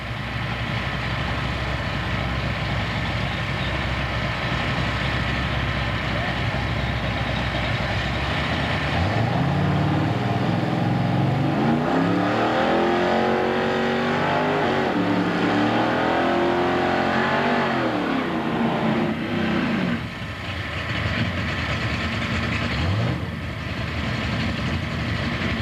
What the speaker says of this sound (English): J.B. Mathieson in the far lane, running another white Camaro